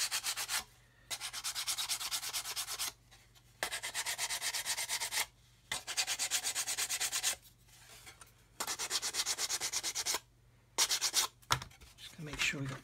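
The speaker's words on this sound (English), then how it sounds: "sand this down." Sandpaper rubbed by hand against a part to make it fit, in repeated bursts of close, steady scratchy strokes separated by short pauses, with a low hum underneath.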